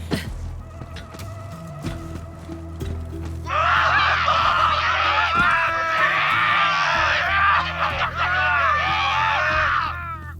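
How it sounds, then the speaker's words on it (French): A chorus of shrill screams and cries rises midway through a stretch of the video game Borderlands 3, loud and sustained for several seconds over game ambience and music. "Vous aussi, vous entendez des cris ou c'est moi qui fais encore une attaque?"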